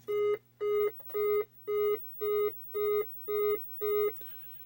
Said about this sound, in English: all 8 beeps sound like the RAMs are bad